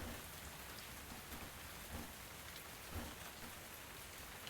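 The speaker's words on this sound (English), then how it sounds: "So guys, it is raining here." Steady rain patters on surfaces in the cozy game Tavern Talk, a dense, even hiss with faint drops and no voices.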